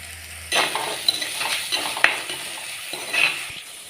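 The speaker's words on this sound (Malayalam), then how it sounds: "നമുക്ക് ചൂടായ എണ്ണയിലേക്ക് ഉള്ളിയും പച്ചമുളകും ചേർത്ത് കൊടുക്കുന്നുണ്ട്" Sliced onion and green chili fry in hot oil, giving a crackling sizzle that swells in bursts as they are stirred. Occasional light metal clinks sit close by.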